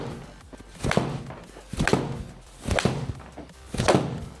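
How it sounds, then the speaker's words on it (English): Four solid thunks of a 7-iron striking golf balls, evenly spaced about a second apart, each a short, fairly close impact with no talk. "Okay, 15 shots with the 7-iron."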